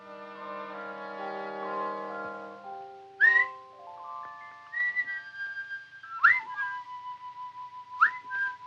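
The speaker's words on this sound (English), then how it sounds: "That was a strange whistle." A strange whistle carries a long, sustained melodic line of held notes, then a few short sliding chirps with pauses between them. It sounds clear and moderately loud, with no talking.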